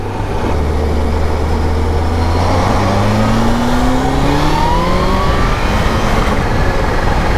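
A motorcycle engine revs up steadily while overtaking a tractor, its pitch climbing as it accelerates hard under constant rushing wind noise.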